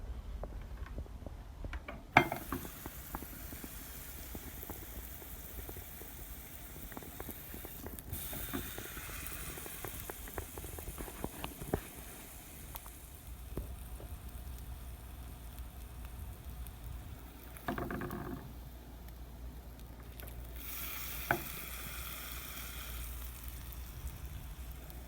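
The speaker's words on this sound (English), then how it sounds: "cook the steak." A steak sears in a pan inside a motel room, giving a steady, moderately loud crackling sizzle that runs throughout with small pops and brief swells, with no talking.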